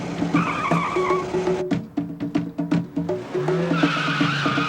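Car tires squeal and skid loudly during a chase, with long screeching tones broken by a burst of rapid scuffing and engine noise before the squeal returns, no voices over it.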